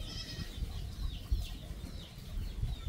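Young chicks and hens clucking and peeping in a backyard coop, soft overlapping calls repeating close by over a low rustling background, with no voices.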